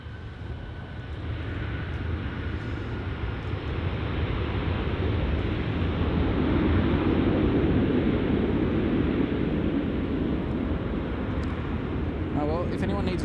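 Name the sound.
airplane making a hard landing at Gold Coast Airport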